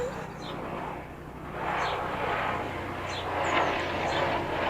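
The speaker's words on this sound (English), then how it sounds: "Yes, it's the police helicopter." A police helicopter drones steadily overhead, its broad rumble swelling and fading, while birds chirp faintly in the background.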